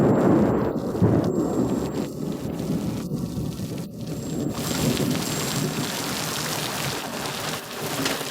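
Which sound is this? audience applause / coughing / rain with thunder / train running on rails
rain with thunder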